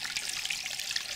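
Water trickling and dripping steadily inside a wet, abandoned underground hard-rock mine tunnel, with constant close splashing and a continuous bright wash of sound, no voices.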